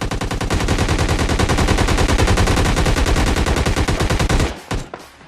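Dense, rapid automatic gunfire from squads fighting in PUBG Mobile Lite, loud and continuous for several seconds before cutting off abruptly into a few scattered final shots.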